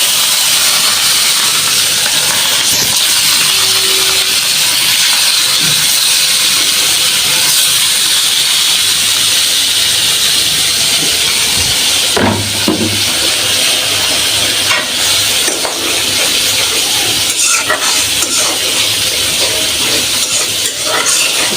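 Fish frying in a hot karahi after being rubbed with salt and turmeric, a loud, steady hiss and sizzle of oil filling the whole stretch, with a few louder spatters and clatters midway.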